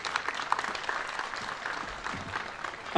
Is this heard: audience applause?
yes